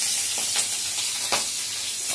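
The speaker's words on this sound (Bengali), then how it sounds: "এই মাছগুলো ভাজবো, ঝাল করব" Fish frying thin and light in a pan, a steady broadband sizzle with a few brief louder pops and spatters, close and fairly quiet, with no voices.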